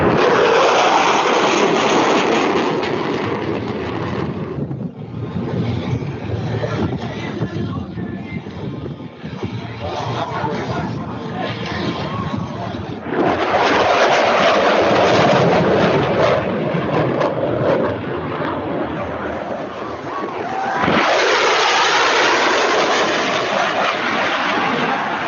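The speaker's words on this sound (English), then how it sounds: "Super Hornet high-speed pass." A Super Hornet fighter jet tearing past at high speed in a sound-barrier pass, a loud broadband roar that swells, eases, then surges again twice across the span with no voices.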